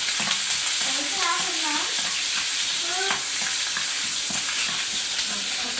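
Ginger, green chilies and dried chilies fry in oil while being stirred, a loud close sizzle with scraping strokes and crackles that runs steadily for several seconds, no speech.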